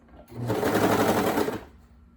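A sewing machine runs in one steady burst of rapid stitching for about a second and a half while sewing a trouser pocket and outer leg seam, starting and stopping cleanly with no talk.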